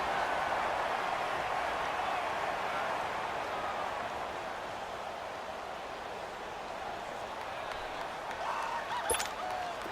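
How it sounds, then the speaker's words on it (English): Stadium crowd noise in a football video game, a broad steady roar of cheering that holds loud throughout, with a brief sharper burst near the end. "The crowd getting into it as we come up on a big 3rd down."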